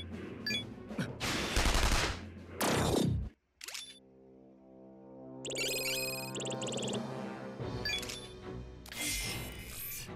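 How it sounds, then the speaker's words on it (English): Gunfire from a gun attack in the video game SMT Strange Journey Redux, bursts of shots and effects in quick succession, with a brief gap and ringing game tones, loud and close, with no talk. "I just use a gun attack, they'll die."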